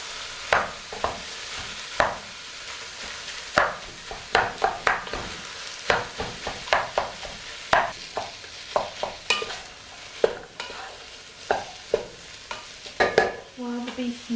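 Beef mince and peas fry in a pan under a constant sizzle, broken by irregular clanks and scrapes of a utensil stirring, close and loud with no talking.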